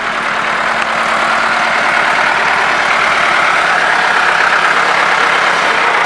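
A Millat 375 tractor engine idles with a steady, loud, continuous rumble and an even low throb, close by and unbroken for the whole stretch, with no voices over it.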